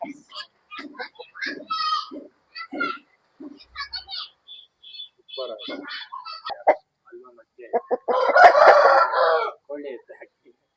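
A Yakut Peela fighting rooster crows loudly near the end, after a stretch of someone talking.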